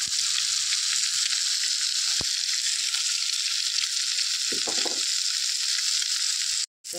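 Eggs cracked into the middle of a pan with capsicum curry, frying with a loud, continuous close sizzle that holds steady throughout, with a couple of faint knocks and a brief cut near the end.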